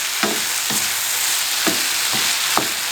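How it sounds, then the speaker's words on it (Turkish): Chopped green tomatoes sauté in a hot pan with a steady, close sizzle, broken by four brisk scraping stirs spaced about half a second to a second apart. "Domates kavurmamı ara ara karıştırdım."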